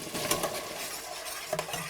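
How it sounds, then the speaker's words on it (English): Sauce sizzles and fries in a pan while a utensil stirs and scrapes against it, with a couple of light knocks. "So here we're gonna fry the tomato sauce."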